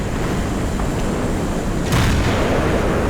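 A single heavy tank cannon shot from an M103 in a video game booms out about two-thirds of the way through, over a constant loud engine-and-battle rumble.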